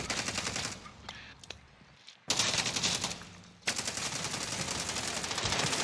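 Rapid automatic gunfire in Call of Duty: Warzone, sustained bursts with a short silent gap, loud and close with a faint voice now and then.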